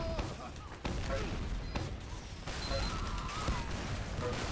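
Sticky bomb and pipe grenade blasts in Team Fortress 2 go off in a quick scattered series of sharp bursts amid game noise, with a voice talking over them.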